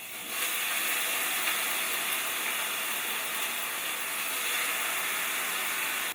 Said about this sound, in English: We're going to drop it in the oil, and we're going to cook it for 2 to 3 minutes on each side.